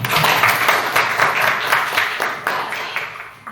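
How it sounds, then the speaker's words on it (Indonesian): A short burst of clapping from a small group, fairly close, tapering off toward the end. "Tepuk tangan dulu untuk Jenny."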